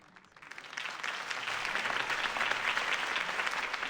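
Crowd applause rises quickly from quiet into a sustained, dense clapping that holds steady, from an audience at a political campaign rally for Harvey Dent in the Batman Telltale Series video game.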